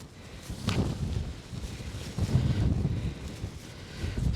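Strong wind gusts across a sub-zero UK winter wild campsite, rumbling and buffeting close to the microphone in a steady low roar that swells and eases over a few seconds, with no talking.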